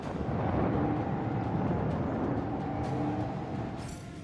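Torpedoes strike a starship's void shields in a Warhammer 40,000: Rogue Trader space battle, a dense, sustained rumbling roar of explosions with heavy low-end weight that stays loud throughout, with no voices.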